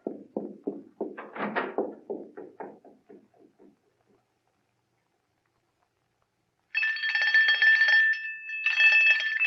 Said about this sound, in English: Ring the doorbell. I'll hear it. Ring it loud.